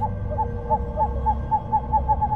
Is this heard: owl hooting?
yes